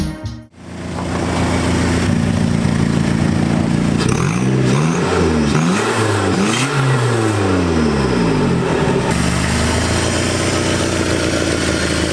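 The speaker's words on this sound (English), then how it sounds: "I decided to ditch the muffler that was on the truck previously to unleash some of the awesome turbo noises." A loud turbocharged Toyota Tacoma engine with 230k miles, muffler removed and exhaust exiting the side of the bed, fires up and revs repeatedly, with rising and falling turbo whooshes and a raw, throaty exhaust roar.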